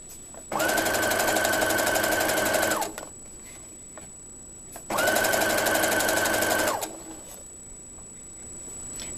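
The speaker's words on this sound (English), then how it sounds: "you can sew right over them" Domestic sewing machine stitching fabric over pins, running in two loud, steady bursts of about two seconds each, separated by a quiet pause, with a faint constant high whine throughout.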